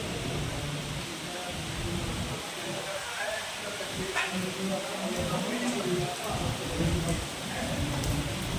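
Steady rain falls on trees outdoors, a dense continuous hiss with broad rustling as branches sway, faint low rumbles underneath, with no voice.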